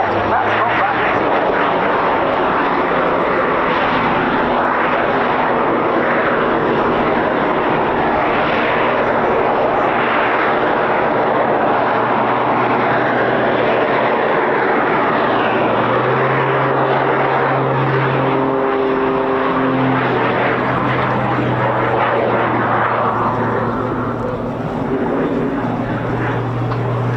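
Aircraft engine roaring at the RAF Cosford Air Show, a sustained loud jet-like drone with rising and falling pitch as it holds a hover, with a commentator talking over it.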